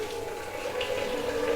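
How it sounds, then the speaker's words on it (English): Boiled water poured from a kettle into a can of beer-kit extract for a homebrew stout, a steady gurgling stream that builds slightly as it fills, close and alone. "The boiled water into the can."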